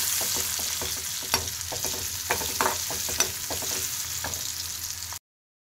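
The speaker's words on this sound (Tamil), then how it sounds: "இந்த வெங்காயத்தை வதக்கும்போது கொஞ்சம் நல்லா இருக்கும் பார்க்கறதுக்கு" Onions with mustard seeds and turmeric sauté in a pan with a continuous sizzle. Occasional scrapes and clinks of stirring sound close by, and no one talks.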